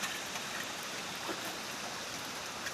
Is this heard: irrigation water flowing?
yes